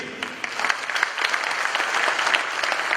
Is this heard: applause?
yes